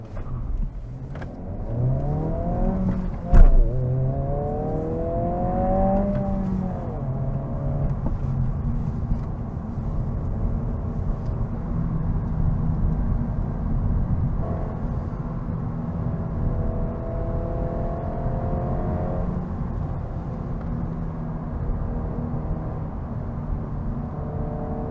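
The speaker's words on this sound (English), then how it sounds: "let's start driving the new Honda Civic Si." A 2025 Honda Civic Si drives along a road, its mid-pitched engine note rising and falling through several gear changes, with one sharp knock early on and steady road noise underneath.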